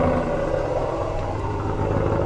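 A 2026 RAM 1500 Limited Longhorn pickup with a factory dual exhaust starts remotely and settles into a steady, deep engine rumble. The sound is close, continuous and at a moderate level, with no talking.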